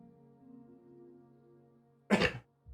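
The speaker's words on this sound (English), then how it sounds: "Sorry for coughing into the mic all night." After a quiet stretch with a faint low hum, a single sharp cough bursts close into a microphone, followed by a brief softer throat sound.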